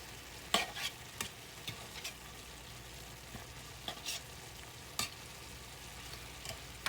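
Velveeta cheese being stirred into cowboy pasta in a pan, with soft scraping strokes and light sizzling heard close up at an irregular pace, no talk.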